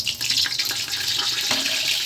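Whole spices such as cinnamon, cloves, shahi jeera, white cumin and mace frying in hot oil for a beef curry, a loud, continuous close sizzle with no talk over it.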